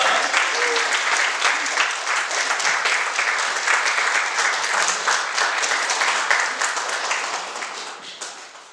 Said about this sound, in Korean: 우리 선교사님 나올 때 우리 환영의 박수로 크게 맞이하겠습니다